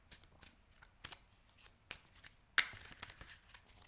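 Tarot cards are shuffled by hand in soft, quick riffles and taps, quiet and close, ending in a louder, denser burst of card flutter.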